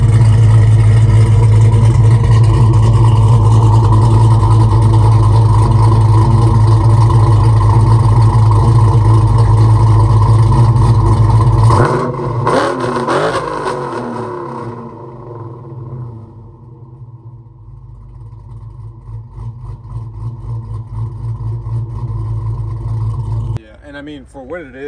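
A Dodge Challenger with an SRT Max Plus camshaft idles loud and close with a heavy lumpy chop, then the engine note drops away partway through before the rumble builds again near the end.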